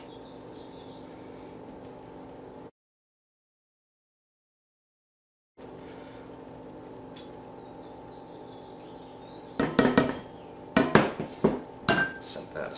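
Simple butter knives clink and scrape against a bowl while chopping bread poolish. Scattered metallic clatters come in bursts after a quiet stretch of low background hum.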